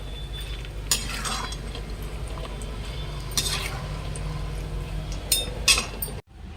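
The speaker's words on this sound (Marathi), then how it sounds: "आता आपले शेंगदाणे छान तळले गेले ते काढून घेऊया" Peanuts frying in oil for poha chivda, stirred and lifted out with a metal utensil: a steady, soft sizzle with occasional clinks and scraping of metal on the pan, ending abruptly.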